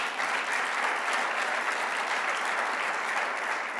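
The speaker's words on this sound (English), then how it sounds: "We can applaud them again." An audience at a European political party congress in Bilbao applauds parliamentary representatives, a steady, moderately faint roll of many hands clapping heard alone without talk.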